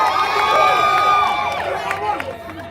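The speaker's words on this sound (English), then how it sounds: "Shall we give her a round of applause?" A large crowd cheers and whoops at a New Patriotic Party rally on the University of Ghana campus, with a loud, sustained swell of voices that rises and then tapers off.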